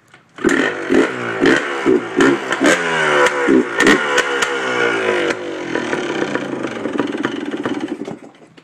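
A 2004 Yamaha Blaster ATV is kick-started, with several sharp kick strokes before the engine catches and then idles and revs unevenly, loud and close with no voices.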